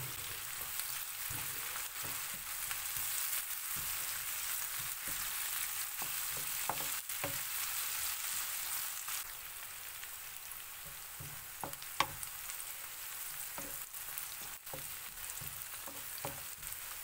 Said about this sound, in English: Cooking this onion only takes like 3 to 4 minutes, and then another 10 minutes for this liver to cook